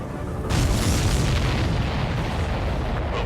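A missile strikes a supply ship in Ace Combat 7, a sudden loud boom that swells into a rumbling, crackling blast and slowly fades.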